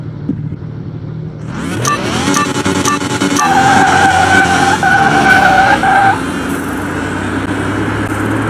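A car in Car Mechanic Simulator 2021 spins its tires at the start of a quarter-mile run, a loud sustained screech with rising engine revs that holds for several seconds before dropping back to a lower idle drone.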